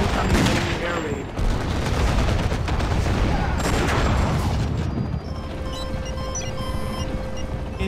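Dense, continuous gunfire and booming blasts from a base siege in Act of War: High Treason fill the battle, with rapid bursts layered over rumbling explosions and a steady din throughout.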